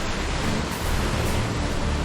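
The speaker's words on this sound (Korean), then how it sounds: "무섭게 파도치는 노르웨이의 거친 바다를 뚫고 가는 배 한 척" Rough waves of the Norwegian Sea batter a ship in a constant loud roar of surf and spray, mixed with wind buffeting close to the microphone and no voices.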